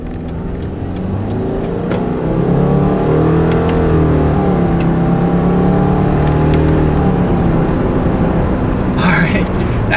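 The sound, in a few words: 2016 Subaru Impreza accelerating, CVT shifted with paddle shifters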